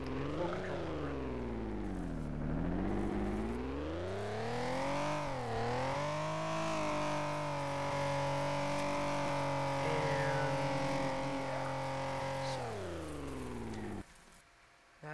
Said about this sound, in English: So, as you can see, the engine is running.